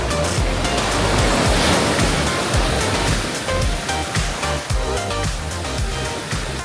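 Ocean surf at Gran Canaria, with waves breaking close by in a loud, continuous wash of rushing water and no voices.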